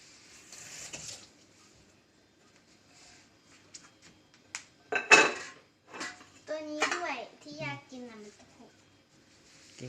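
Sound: child washing dishes

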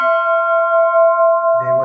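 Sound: historic plantation bell rung to wake slaves

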